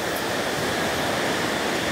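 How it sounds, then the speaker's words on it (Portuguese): Sea waves washing onto Copacabana beach in Brazil, a loud continuous roar of surf and rushing water filling the whole stretch without pause. "E o mar tá vindo."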